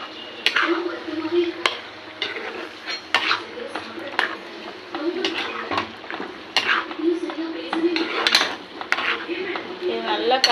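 A spoon scrapes and clinks against a metal pot in irregular strokes, stirring chicken masala close by, with a faint bubbling underneath.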